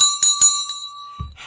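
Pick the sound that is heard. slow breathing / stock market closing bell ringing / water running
stock market closing bell ringing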